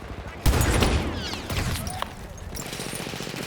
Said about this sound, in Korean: AT건을 엄청 쏴대네요